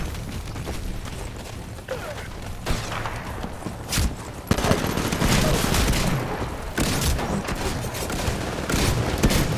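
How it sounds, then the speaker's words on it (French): A shotgun fires in the video game Titanfall amid continuous loud gunfire and explosions, dense overlapping blasts with a few sharper shots standing out, while someone talks over the game. "Alors là j'ai un petit fusil à pompe qui n'est pas tellement un fusil à pompe."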